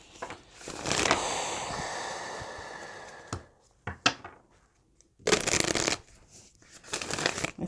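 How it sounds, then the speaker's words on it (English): Tarot cards being shuffled by hand at close range, with several quick riffling bursts separated by short pauses and soft handling noises. "Let's give it a good shuffle."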